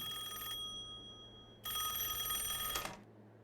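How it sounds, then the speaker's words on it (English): A telephone rings in two bursts, a short ring and then a longer one after a pause, bright and steady over a low background hum with no one speaking. "and then the phone begins to ring."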